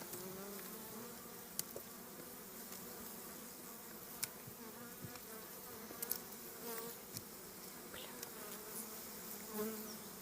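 A wintered honeybee colony in an opened hive gives off a faint, steady buzzing hum during inspection, broken by occasional sharp clicks of handling.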